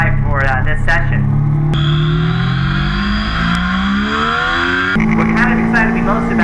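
A Triumph Daytona 675 sport bike on Continental Sport Attack 3 tires roars along a handling course, its engine winding up loudly with sharp gear changes in between each rising pull.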